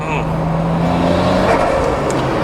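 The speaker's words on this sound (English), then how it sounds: "you can hear it's opened up really nicely, and that exhaust is pretty tame" A Nissan Skyline GT-R R33 engine rumbles and revs close by at a car expo, its fairly tame exhaust note rising steadily, with a voice talking over it.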